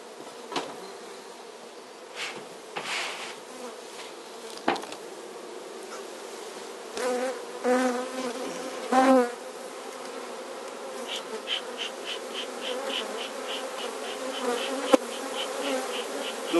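Honeybees hum steadily around a pair of nucleus hives during a colony split, a continuous close drone with occasional louder passes as individual bees fly near.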